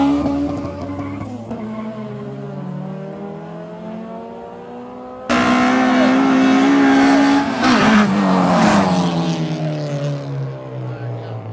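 Drag race car at a race track revving hard, its engine pitch sweeping up and down through repeated pulls, with a sudden louder burst of close acceleration midway and tire squeal; no talk.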